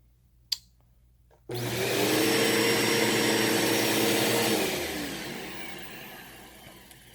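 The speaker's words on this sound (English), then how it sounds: "my vacuum cleaner is plugged in" A click, then a Bissell vacuum cleaner switches on and runs with a loud steady whine and roar, easing slightly toward the end.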